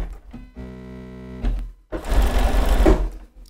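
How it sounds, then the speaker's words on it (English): A sewing machine stitches a foundation paper pieced quilt block for a scrappy 1930s-style quilt, running in two close, steady bursts: a humming run, a brief pause, then a louder, rougher stretch of stitching. "So you're sewing on the line between D2 and D1."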